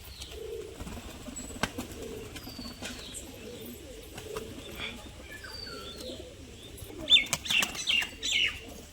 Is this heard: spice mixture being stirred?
no